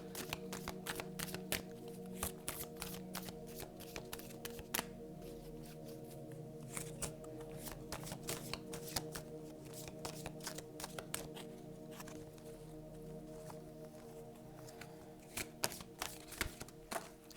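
Tarot cards being shuffled by hand close up, a steady run of dense riffling taps and soft slaps that carries on without a break and without talk.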